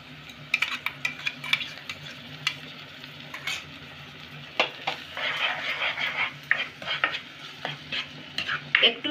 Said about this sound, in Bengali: এবার আমি যে পেস্টটা তৈরি করলাম ওটা আমি দেবো।